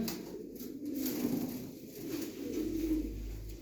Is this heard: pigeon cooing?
yes